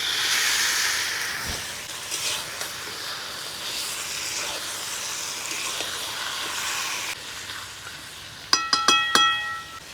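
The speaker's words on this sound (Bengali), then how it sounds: "এবারে এই পেঁয়াজ টমেটোর উপরে মাংসটা দিয়ে দিব।" Goat mutton goes into a pan over cooked-down onion and tomato for a mutton and potato curry, giving a steady sizzling hiss that fades, then a few quick metallic clinks of utensils.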